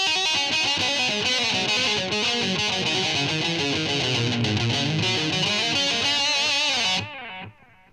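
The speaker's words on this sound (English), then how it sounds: "Okay, so then we have this delay." Electric guitar played through a Hoerev (Rowin) delay pedal with half distortion, notes smearing into repeating echoes that trail behind each phrase, sustained and loud throughout before cutting off near the end with a brief tail.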